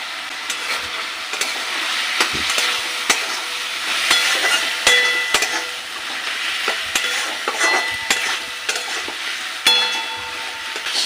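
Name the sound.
fish head and spices frying with salt, turmeric, chili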